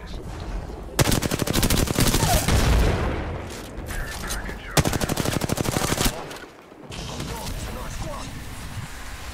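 Rapid gunfire bursts in Apex Legends, a loud sustained automatic volley followed by a second shorter burst, with lighter shots and game noise between.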